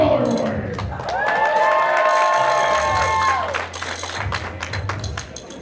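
A crowd at a junior roller derby bout for the Kansas City Junior Roller Warriors against the Ad Astra Novas cheers and shouts loudly, with whistles and rising, wavering calls over a busy arena din.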